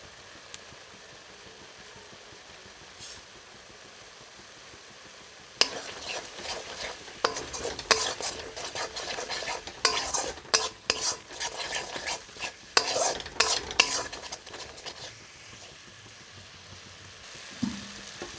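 Spice masala with a little Kashmiri red chilli powder is stir-fried in a pan. After several near-silent seconds, loud bursts of scraping and clattering stirring begin and repeat, with a light sizzle beneath.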